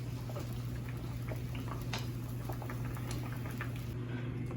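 A pot of homemade bolognaise marinara sauce made from garden tomatoes simmers softly on the stove, giving faint steady bubbling and popping over a constant low kitchen hum, with no voices.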